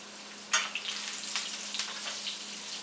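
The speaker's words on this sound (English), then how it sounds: "And we're just going to sear the outside." Tuna searing in a hot pan, a soft steady sizzle with small crackling pops and faint stirring bursts, close and alone.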